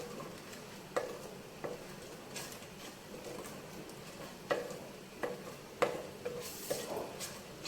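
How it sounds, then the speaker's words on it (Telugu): Onions sizzling in a pan for a butter chicken curry, a steady soft frying hiss with occasional sharp taps of a spoon stirring against the pan. "ఉల్లిపాయ త్వరగా వేగుతుంది కూడా"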